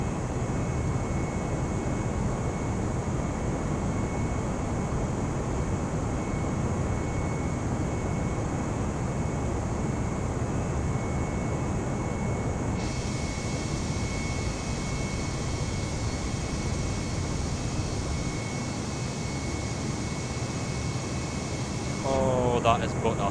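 Concorde jet engines roar steadily at takeoff thrust in a flight simulator, a loud continuous broadband rush that shifts in tone partway through, with a voice talking over it.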